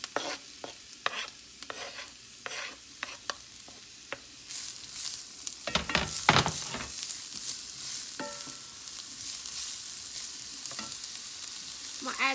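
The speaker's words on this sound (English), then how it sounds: "Now to the avocado oil, I'm going to add my peppers and onions and saute them." Peppers and onions hit hot avocado oil in a skillet: scattered stirring scrapes and taps first, then a loud, continuous sizzle that swells and holds close up.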